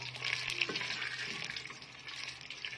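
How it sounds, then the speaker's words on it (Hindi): Chopped onion fries with cumin in a clay pot, giving a steady soft sizzle with a brief stir or clink, close and fairly quiet with no talk. "अब ये हमारे पास है प्याज, 1 अदद हमारे पास प्याज है। इसे वाइट होने तक हम भूनेंगे।"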